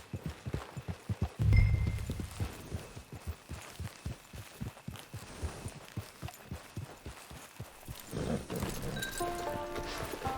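Horse hooves clip-clopping at a steady walking rhythm in the video game Red Dead Online, fairly close and even, with a brief louder thump early and some soft background game sound near the end.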